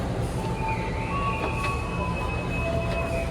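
KA Kahuripan economy-class train rolling out of Lempuyangan station, with a steady loud rumble of wheels on track and thin high squeals from the wheels running through it, heard from inside the carriage.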